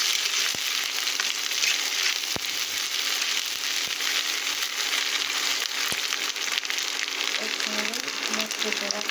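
Garlic paste frying in a pan for a ridge gourd and fish curry, giving a continuous bright sizzle and crackle with a few sharp pops, steady and close throughout.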